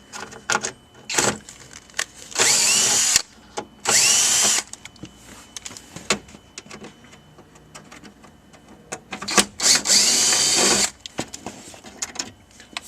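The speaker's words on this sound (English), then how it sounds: "we are going to remove this knee bolster panel, which is 2 Phillips screws" A power drill backs out Phillips screws from a knee bolster panel inside a 2007-2012 GMC Sierra or Chevrolet Silverado cab. Several loud, close whirring bursts of a few seconds each are separated by clicks and handling noise.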